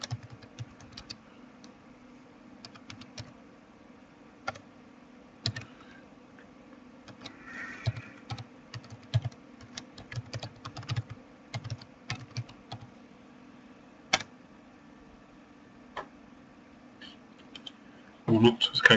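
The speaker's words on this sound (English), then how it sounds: "I'll type in something now and it will give me a nice little tablet to get there." Typing on a computer keyboard in a quiet room, sparse soft key clicks in irregular bursts, a quicker flurry of taps near the end, with a low steady hum underneath.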